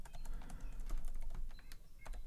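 Fingers patter across a computer keyboard at a steady clip, closely heard key clicks over a low background hum, with no voices.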